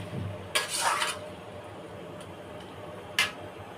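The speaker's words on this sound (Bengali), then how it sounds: "নেড়ে চেড়ে নামিয়ে দেবো" Bottle gourd curry with mung dal and peas being stirred in a pan: a couple of sharp scraping clinks of a spoon against the pan, spaced apart over a quiet kitchen background, with no talking.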